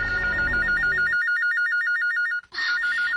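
A telephone rings with a warbling electronic trill, loud and close, running in repeated bursts with a brief pause before starting again.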